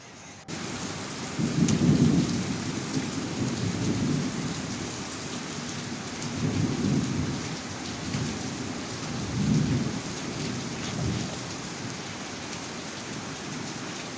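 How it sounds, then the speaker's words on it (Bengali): Thunder rolls in several deep, low rumbles over a steady hiss of rain falling on surfaces, at a moderate distance, with no voices. "জোরে ডাকছে, মেঘ ডাকছে"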